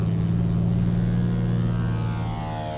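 A de Havilland Beaver seaplane's 1928-era radial engine drones loud and close with a steady low, harmonic rumble, easing slightly toward the end as it carries on alone without voices.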